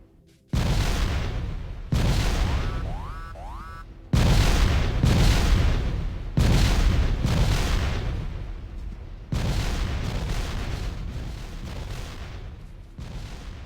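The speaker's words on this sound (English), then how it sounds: "I just wanted to use the rockets, really." Rocket turrets in Factorio firing volley after volley, each burst a loud booming blast with crackling explosions that fade before the next, about five heavy salvos in close succession, no talk.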